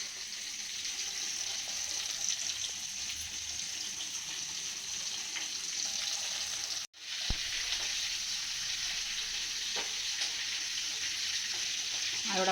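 Hilsa fish fries in hot oil in a pan for a hilsa curry, a steady close sizzle and crackle that continues alone, breaking off for a moment with a sharp click before resuming.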